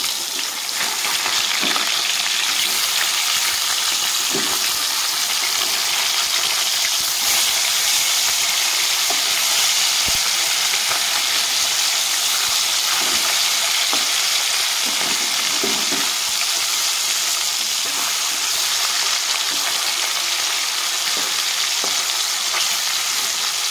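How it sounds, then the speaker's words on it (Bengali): Rohu fish pieces frying in a pan for a curry with potato and cauliflower, a loud, steady sizzle and crackle that runs unbroken throughout with faint stirring, and no talk. "তো মাছগুলো আমি লাল লাল করে ভেজে নেব।"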